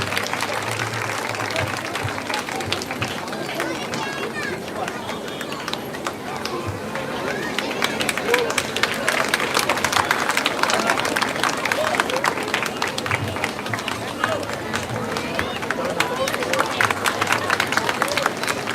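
Audience clapping at a Grand Jagannath Rathayatra 2023 gathering, a steady sustained applause from a crowd with background babble, continuous and fairly loud throughout.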